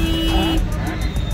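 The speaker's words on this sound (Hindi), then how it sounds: "इधर भी काफी ट्रैफिक रहता है, आज भी है" Busy road traffic near the Muzaffarpur bus stand in India on a day after heavy rain: a short, dense roar of vehicle noise, loud and close, with a voice faintly mixed in.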